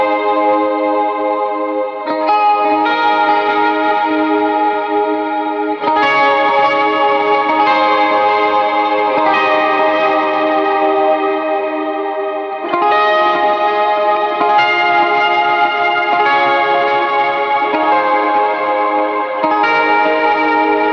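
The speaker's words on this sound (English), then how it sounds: "If I want to use this as a chorus pedal, I'll also be using a Cloud 3 just to add a little bit more trails on my reverb." An electric guitar runs through a chorus pedal and a Cloud 3 reverb on a pedalboard, producing sustained, shimmering chords that ring and overlap in long, lush reverb trails, loud and continuous with no voice.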